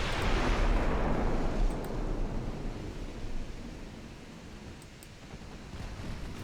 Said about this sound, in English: Let's fire a high explosive salvo.